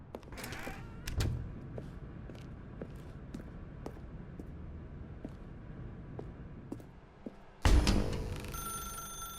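A telephone rings in The Stanley Parable video game, a string of short sharp bell trills spaced through a quiet room tone, then a sudden loud burst near the end as the ringing cuts off.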